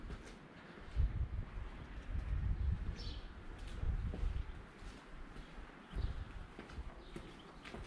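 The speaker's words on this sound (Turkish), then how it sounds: "Kuşlar var." Pigeons cooing near the Great Mosque in Yozgat, soft murmuring calls over a quiet outdoor street with occasional thumps and footsteps, fairly faint and without speech.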